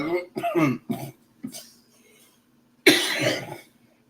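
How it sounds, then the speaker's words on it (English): A man coughs in several harsh bursts, a quick cluster of three barking coughs, a lone short one, then after a pause a longer rasping cough and throat clearing, close and alone. "I'm coughing like crazy."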